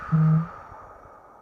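A single slow, deep breath drawn in and let out as a soft sigh, close and gentle, fading into quiet.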